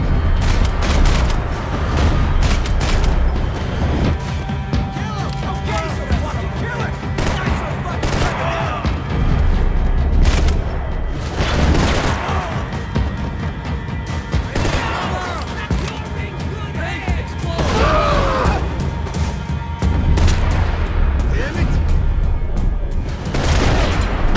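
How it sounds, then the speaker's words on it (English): Steady, dense gunfire with heavy booms and explosions over Hoboken in the video game Max Payne 3, a continuous battle din without pause, loud and close throughout. "Gunfire over Hoboken."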